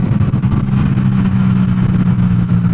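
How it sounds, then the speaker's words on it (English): A loud Yamaha XSR700 crossplane-crank engine with an aftermarket exhaust holds a steady, throbbing, uneven rumble at close range, running continuously throughout. "what's amazing is just what that crossplane crank sounds like"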